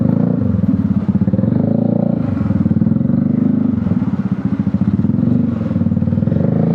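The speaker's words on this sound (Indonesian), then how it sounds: "X-Max pakai knalpot roll, nggak terlalu kencang sih bunyinya" A Yamaha X-Max scooter with an aftermarket exhaust drones steadily with a deep, throaty note, holding a low rumble throughout with slight swells, moderately loud and close.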